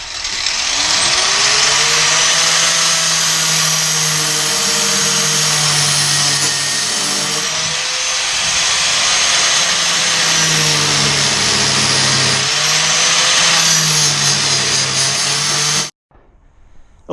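A power tool cuts and trims fiberglass on a Lamborghini Countach kit car, giving a loud, steady high-pitched whine that dips slightly in pitch under load for about sixteen seconds and then cuts off abruptly.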